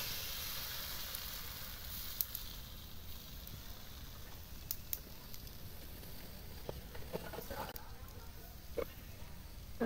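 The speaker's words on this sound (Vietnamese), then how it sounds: "Nghe xèo xèo luôn." Bánh xèo batter studded with clams (hến) hisses in a hot pan, a steady, close, bright sizzle that holds through the whole stretch with small crackles and pops scattered over it.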